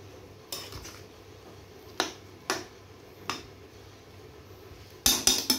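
Eggplant and spinach with spices are stirred in a pan, giving a few sharp, separate clacks of a utensil against metal, spaced unevenly and ending in a quick cluster, close and clear with no talk.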